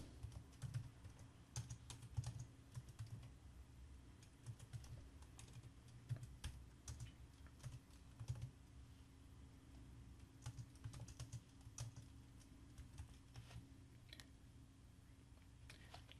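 Rapid, faint clicks of typing on a computer keyboard come in irregular bursts over a quiet low hum.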